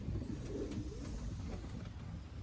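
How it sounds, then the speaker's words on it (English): Young pigeons cooing in a loft, soft low coos amid a steady noisy background, no talk. "Beautiful, beautiful birds."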